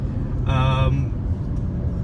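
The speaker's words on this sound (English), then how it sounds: "obviously the car sounds a lot more aggressive, and you get pushed back a lot harder, a lot faster." A 2019 BMW 540i M Sport accelerates hard, its engine a low, steady drone heard from inside the cabin while someone talks over it.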